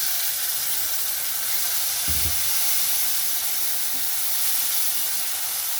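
A splash of water poured into a hot frying pan of stuffed banana curry, setting off a loud, steady sizzling hiss of steam with one brief clunk partway through.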